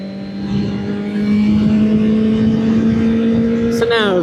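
A motorcycle cruising at highway speed with a steady droning engine tone and wind roar, recorded close from the rider's position, with a brief rising rev near the end.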